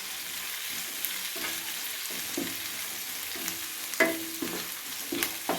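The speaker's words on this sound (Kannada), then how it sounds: "ಈರುಳ್ಳಿ ಹಾಕೊತಾ ಇದ್ದೀನಿ, ಈರುಳ್ಳಿನ ಚೆನ್ನಾಗಿ ಫ್ರೈ ಮಾಡ್ಕೊತಾ ಇದ್ದೀನಿ" Onions frying in a pan for a sabbakki uppittu (sago upma) recipe give a steady, moderate sizzle, broken by occasional scrapes and clinks of stirring, with no talk.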